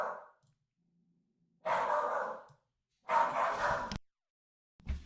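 A pet dog barks indoors in a few short bursts with pauses between them, moderately close but fairly quiet, with no talking.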